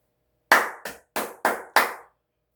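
Five separate, sharp hand claps in an uneven rhythm, close and crisp, each ringing briefly in a quiet room with no voices.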